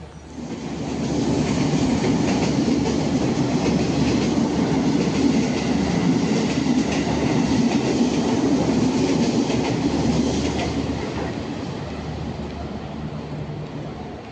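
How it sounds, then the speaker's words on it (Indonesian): A passenger train rumbles steadily alongside a platform at an Indonesian railway station, with rolling wheel noise and faint metallic squeals building and then easing off, no talking. "ada rangkaian kereta api Jayakarta yang sudah terparkir di jalur 4"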